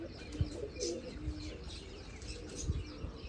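Pigeons in a fancier's loft give a few soft, low coos and faint chirps against a quiet, noisy background, with a light flutter of wings.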